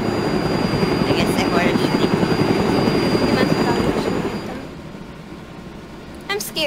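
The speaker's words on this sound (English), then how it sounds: "They're landing their chopper right now." A helicopter landing in a video game, a loud continuous rotor chop that fades down after about four seconds, leaving a quieter tail with brief sharp noises, while voices talk over it.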